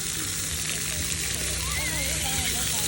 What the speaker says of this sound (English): we are at the splash pad now